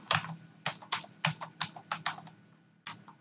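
A computer keyboard is typed on in clear bursts of distinct key clicks, some single and some in quick clusters, with a pause near the end before a last stroke. The clicks sound close and no one talks.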